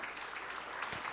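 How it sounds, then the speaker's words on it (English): Faint applause from an audience at a minority health summit, a soft continuous patter of clapping heard at a distance, with a brief sharper sound near the end. "Y'all clap for Terry."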